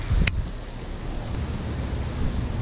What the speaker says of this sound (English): Now we got a lot of wind,